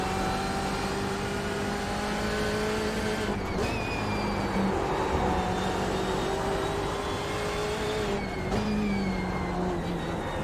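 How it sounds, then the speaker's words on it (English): Car engine pulls hard while accelerating out of a curve after a downshift to third and a short shift to fourth, with steady, fairly loud revs and rising engine tones interrupted by two brief gear-change dips. "Down to third, then short shift to fourth,"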